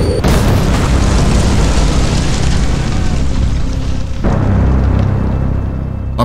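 A loud explosion bursts as a cannonball strikes ammunition wagons in a battle scene, opening with a sharp blast followed by a rumbling roar and a second heavy boom midway that fades into crackling.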